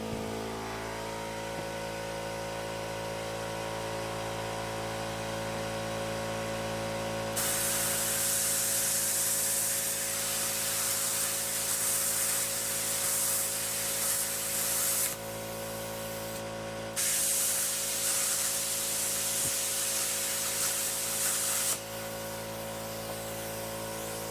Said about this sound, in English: I'll retry the 1/4 inch again, holding this on an angle.